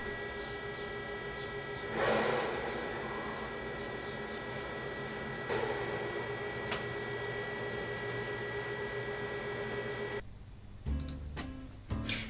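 A QNAP TS-853U rackmount NAS runs with a steady, even fan whir and hum, a router adding background noise, with a few faint clicks and a brief change in tone near the end.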